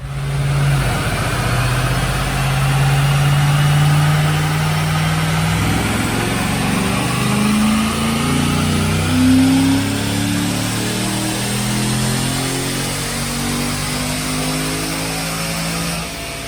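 A stock 2005 Ford Mustang automatic with a non-intercooled Paxton supercharger idles on a dyno, then rises into a long, loud full-throttle pull, its engine note climbing steadily in pitch and holding a strained, sustained roar to the end.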